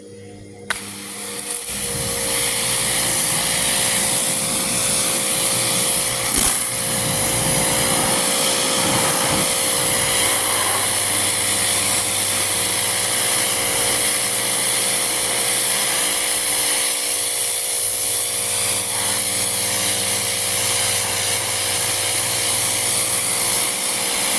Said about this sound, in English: let me get the pressure washer hooked up